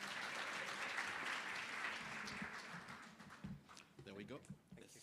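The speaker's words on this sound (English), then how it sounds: "Come on, give him a round of applause once more." A conference audience bursts into loud, sustained clapping that fades after a few seconds, leaving scattered claps and a voice speaking over a microphone.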